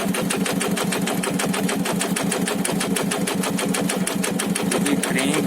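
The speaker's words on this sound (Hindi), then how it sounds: "तो देखिए इसमें क्रैंक का साउंड है और पिस्टन का साउंड, दोनों का साउंड आ रहा है इसमें से।" Idling TVS Star City Plus motorcycle engine with a crank and piston fault, giving off a fast, evenly spaced mechanical ticking and knocking close up, running alone without any talk.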